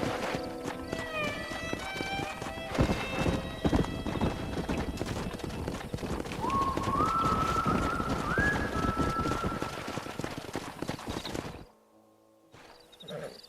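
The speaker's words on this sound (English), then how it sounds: "We got some fine horses." Horses trot in the video game Red Dead Redemption, a rapid clip-clop of hooves with a neigh partway through. Game music and ambience play alongside, and the sound cuts to near silence at the end.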